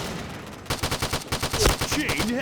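An Ultimax machine gun in the shooter game Point Blank fires a rapid burst of evenly spaced, close, loud shots after a quieter lead-in, with a brief sharp effect partway through.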